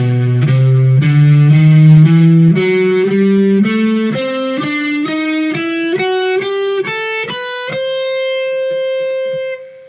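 An electric guitar with distortion plays an A Dorian blues scale, climbing note by note in a steady run of about fifteen picked tones with an effects-laden, sustained edge, the final note ringing out alone.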